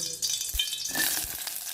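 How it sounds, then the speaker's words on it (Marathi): Garlic and spices spluttering in hot oil as a tadka for a Malvani surmai (kingfish) curry, a steady close sizzle with a few soft pan knocks and no talk. "आता आपण फोडणी घालूया"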